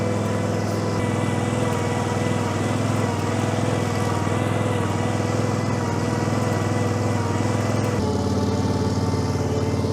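A Westermann CM2 multifunction bedding machine runs loud and continuous on a dairy farm, a steady droning engine with a constant rough mechanical roar close by for the whole stretch.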